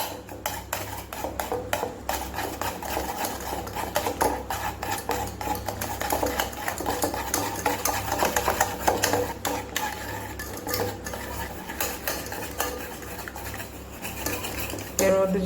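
Cake batter for a chocolate cake being whisked with powdered sugar in a bowl, a fast continuous clatter of whisk against the bowl running steadily throughout, close and fairly even in loudness.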